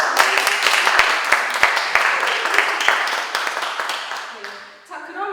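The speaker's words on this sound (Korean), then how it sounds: "탁월하게 맞추신 이 네 분께 다시 한번 큰 박수" An audience at a church team gathering bursts into loud, dense clapping for four quiz winners, with sharp individual claps standing out before the applause fades and a voice comes in.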